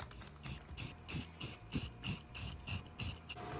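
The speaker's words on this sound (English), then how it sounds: "So now we're gonna get it spray painted." Short repeated bursts of aerosol spray paint on a Beetle car part, about a dozen quick hisses in a steady rhythm, close by with no talking.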